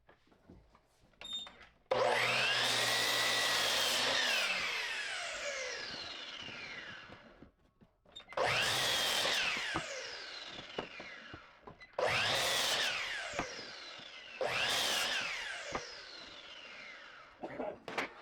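A power saw cuts 2x4 lumber into lengths against a stop block in four separate passes, each a loud whining cut that winds down before a short pause, heard close with no talk.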